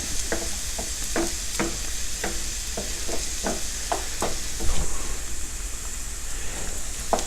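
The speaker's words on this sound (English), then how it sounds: "the 2 eggs that I whisked in here, and I'm going to just soft scramble them" Two whisked eggs soft-scramble in a pan on medium heat, a steady sizzle broken by a rhythmic series of scraping stirs from a utensil, close and continuous with no talking.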